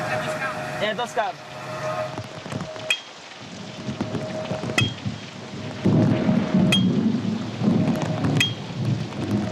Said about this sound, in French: C'est épuisant de voyager sous cette pluie.